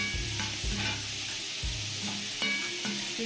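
Shrimp fry and sizzle in a pan on the stove, a steady close crackle broken by repeated scraping and tapping of a utensil as they're stirred.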